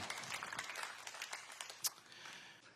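A church congregation claps along during a sermon, a faint, scattered patter of hand claps that stays steady and distant, with one sharper clap standing out near the end.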